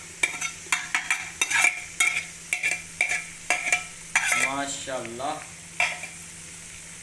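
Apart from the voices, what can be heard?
stirring ginger and garlic frying in chicken karela gravy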